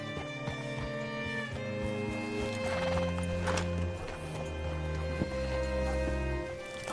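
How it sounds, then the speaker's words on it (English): Horse hooves clip-clop steadily while a horse whinnies in Red Dead Redemption 2, set against sustained music-like tones throughout. "Hitch your horse up here."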